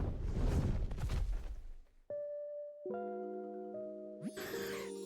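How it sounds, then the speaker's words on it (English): A soothing bell chimes in the video game Pokopia, ringing as sustained tonal notes that enter after a burst of rumbling noise and build into layered, overlapping ringing near the end. "That bell has such a lovely and soothing tone."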